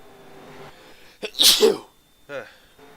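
A single person sneezes close to the microphone, with a sharp intake of breath and then the burst, and a short vocal sound afterward.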